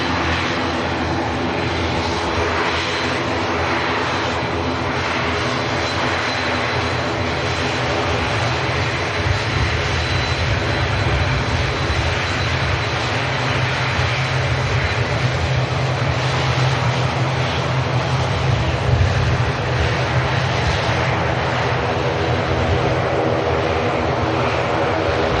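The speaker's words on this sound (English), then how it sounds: "Noisy Aer Lingus ATR 72 taxiing past us, heading out to the Isle of Man" A noisy Aer Lingus ATR 72 turboprop taxis at Manchester Airport, giving a steady, loud, continuous engine drone with broad rumble and a faint high whine, sustained throughout without speech.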